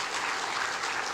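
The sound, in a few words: congregation applause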